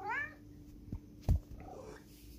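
A cat lets out a rising, drawn-out meow at the start, followed by soft thumps and faint rustling nearby in a quiet indoor room.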